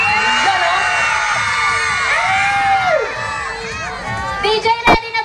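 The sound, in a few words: crowd shouting and cheering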